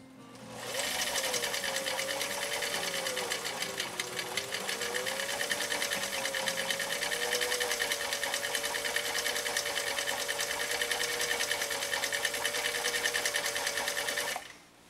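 1955 Viking Type 21 sewing machine stitching leather with a size 14 leather needle, a close, steady rapid whirring clatter that runs without a break for about fourteen seconds before stopping.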